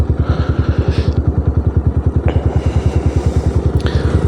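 A motorbike rides a steep mountain track, its single-cylinder engine thumping in a fast, even, loud rhythm throughout, with faint clatter and no speech.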